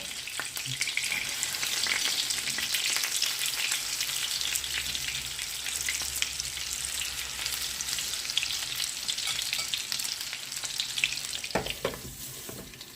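Hake pieces coated in a batter-marinade fry in a pan with a steady, dense sizzle and crackle throughout, plus a few brief louder pops and spatters toward the end.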